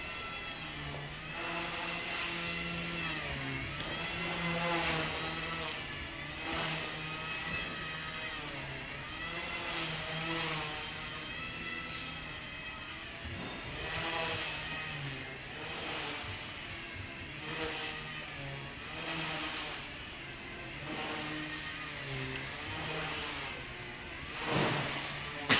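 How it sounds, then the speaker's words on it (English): Walkera V100D03 small RC helicopter flying, a continuous high whine of rotor and motor that swells and dips with throttle punches, close by, with some talk over it. "Punch out is just awesome with this little helicopter."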